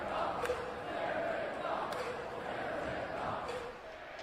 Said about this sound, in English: Jared Goff chants at Van Andel Arena